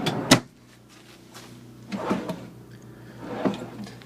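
Wooden pull-out drawers in the closet of a 2014 Newmar Baystar 3213 motorhome, opening and closing in three separate soft thumps and slides, close by in a quiet interior.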